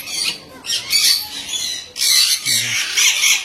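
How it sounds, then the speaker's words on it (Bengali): Parrots at a large bird park and breeding centre in Sreemangal, Bangladesh, let out repeated harsh, loud squawks close by in overlapping bursts. "এখানে কত রকমের শুধু টিয়া পাখি, প্রায় 20 জাতের মতো হচ্ছে এখানে সব টিয়া পাখি।"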